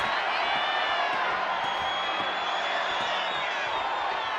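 A wrestling arena crowd in WWE 2K25 roars and cheers continuously, a dense, loud wall of whoops and shouts that holds steady throughout.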